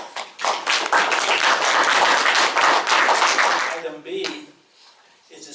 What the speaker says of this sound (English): I would like for them to have a round of applause.